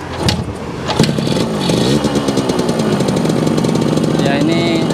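A rebuilt Yamaha RX King two-stroke motorcycle engine starts up after a total teardown. It settles into a loud, close, rattling idle with a rapid buzzing rhythm, and a person speaks over it.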